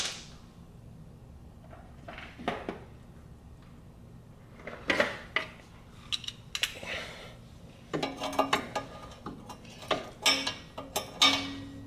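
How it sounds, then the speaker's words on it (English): A socket wrench ratcheting on transmission bolts under a BMW Z3, giving quiet, close bursts of metallic clicks and ticks in short irregular runs, sparse at first and denser toward the end. "There's my socket wrench."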